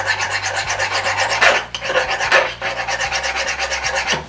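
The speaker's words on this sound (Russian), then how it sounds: "Можно попробовать напильником" A hand file rasps rust off a metal part, with steady, close, rhythmic back-and-forth strokes. There is a brief pause near the middle and a low hum underneath.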